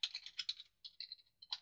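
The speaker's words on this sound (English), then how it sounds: "and type in what we want." Computer keyboard typing in short, close bursts of quick key clicks separated by brief pauses, while text is entered into a spreadsheet chart on a PC.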